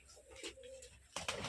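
Rajshahi giribaj pigeons give a brief soft coo, quiet and close, followed by a short burst of brighter noise.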